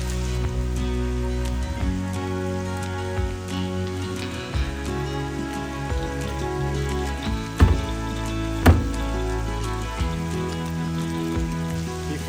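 Rain patters on a teardrop trailer, a steady wash of drops with scattered louder taps and a couple of sharp knocks, close and continuous under a low hum.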